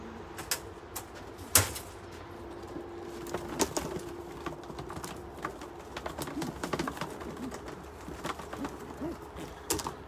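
Racing pigeons cooing while being basketed for an 80-mile sprint race: soft, repeated low coos from several nearby birds, mixed with scattered clicks, wing flutters and handling knocks.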